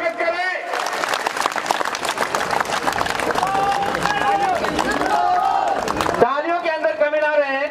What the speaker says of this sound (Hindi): तालियों के अंदर कमी ना रहे, जोरदार स्वागत करें।